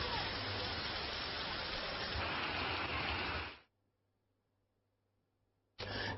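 Heavy rain pours in a dense, steady hiss, then cuts out abruptly into near silence for about two seconds before resuming.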